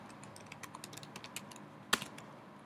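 Quick, light tapping on a Mac computer keyboard, a steady run of close, soft keystrokes ending with one sharper key press, with no talking.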